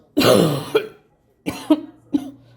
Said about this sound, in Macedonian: Уште кашлам.